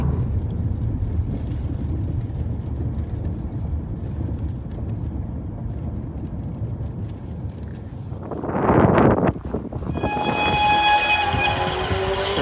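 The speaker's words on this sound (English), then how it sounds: "traction engine going over there." A steady low rumble of a steam traction engine rolling past at a heritage railway, then a loud hiss of steam and a high whistle toward the end.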